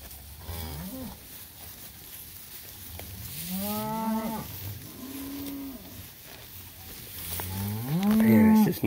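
Cattle grazing in a paddock low and moo repeatedly, several drawn-out calls from different animals, some close and loud, over a steady outdoor background hiss.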